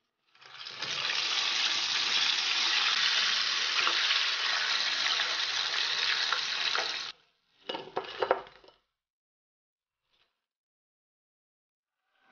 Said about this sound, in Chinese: 再复炸一遍。